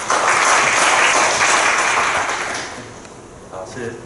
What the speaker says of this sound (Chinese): 我们就以最热烈的掌声来欢迎我们的林院长